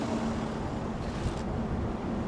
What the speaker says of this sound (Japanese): 風が強いね。 最近風がすごい強いよね。